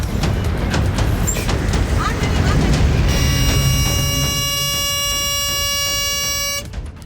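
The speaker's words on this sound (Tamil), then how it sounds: "லாரி அதிக ஒலி எழுப்பும் வகையில் ஹார்ன் அடித்துக் கொண்டு வந்த நிலையில்" A loud, blaring truck air horn sounds continuously for several seconds over rumbling traffic noise, then stops abruptly.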